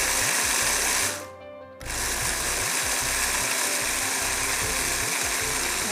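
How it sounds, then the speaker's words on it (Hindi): A Philips electric grinder grinds spices for homemade hunter beef: a loud, close, rattling mechanical whir that cuts out briefly early on, then starts again and runs steadily to the end. "ये फ़िलिप्स का मेरे पास बहुत ही अच्छा सा ये ग्राइंडर मौजूद है, इससे मैं इसको पीस लूँगी"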